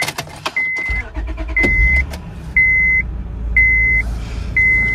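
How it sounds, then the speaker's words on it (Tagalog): A car idling to warm up in snow, a low steady engine rumble close by under a repeating electronic chime that sounds about once a second. "Magpapainit muna tayong sasakyan para mas safe tayo."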